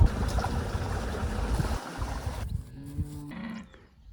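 Cattle lowing on a farm on a humid, overcast day, several loud nearby moos over a dense, steady background, with one clear drawn-out call near the end.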